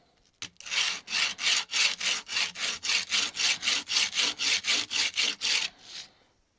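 A chisel is sharpened on a diamond sharpening plate, giving about sixteen steady back-and-forth rasping strokes in an even rhythm, close and fairly loud, with no talking.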